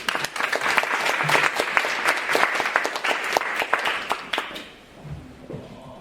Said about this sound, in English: let's welcome him with